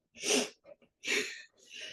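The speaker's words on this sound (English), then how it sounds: "I feel like I'm about to sneeze" Two sharp sneezes burst out close by, the second following a short breath, with a softer snorting exhale trailing after.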